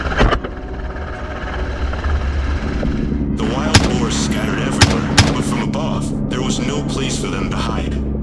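Gunshots ring out from a helicopter chasing wild boar over a swamp, with a few sharp cracks and rapid bursts standing out above the steady, loud thrum of the helicopter's rotor and engine.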